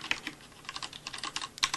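Rapid, uneven clacking of keys on a CM Storm QuickFire Pro mechanical keyboard, crisp close-up keystrokes tapping in irregular bursts with no voices.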